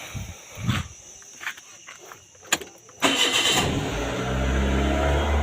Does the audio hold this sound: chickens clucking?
no